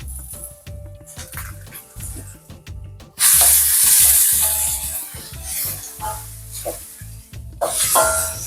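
Two large chopped onions hit hot oil in a pot for tomato biryani, setting off a loud sudden sizzle that stays strong and rises again near the end, with spoon scrapes and clinks before it.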